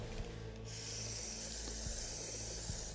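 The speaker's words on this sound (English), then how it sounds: "We spray the kicker" Glue kicker aerosol sprays in a continuous close hiss onto an RC car suspension arm, starting just after a short pause and running to the end, with a few faint clicks beneath.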